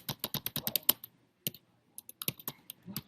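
Rapid keyboard typing, a quick run of clacking keystrokes, a short pause, then more scattered taps, close and clear.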